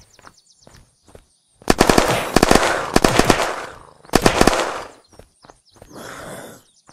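Video game gunfire in Unturned comes as rapid automatic bursts, with two long loud volleys and scattered single shots and clicks between them.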